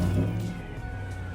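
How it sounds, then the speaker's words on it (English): A Lightning vehicle's engine turns over and settles into a steady, mellow low rumble, close and fairly loud, easing slightly after the first moment. "I'm gonna start it right now"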